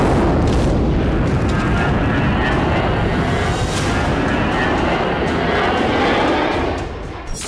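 An IDF fighter jet roars overhead above Gaza, a loud, sustained, rumbling engine noise that holds steady for several seconds before easing slightly at the end, with no voices.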